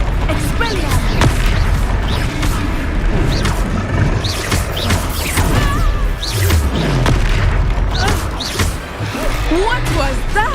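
The Expelliarmus spell is cast amid Hogwarts Legacy combat, producing loud booming blasts and crashing impacts that layer over dense battle effects, with voices shouting throughout.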